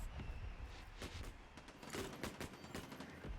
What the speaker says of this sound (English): weaving around all the explosions that he himself set up